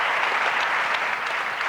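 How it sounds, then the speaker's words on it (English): Audience applause in a television studio, a steady dense wash of clapping from a crowd, fairly loud and continuous with no voices over it. "And you all are all applauding because you feel the same way?"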